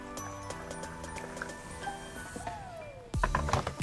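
Water poured for spicy pumpkin tea, a close, steady trickle with a rising fill tone, then a sharper splash and clatter near the end.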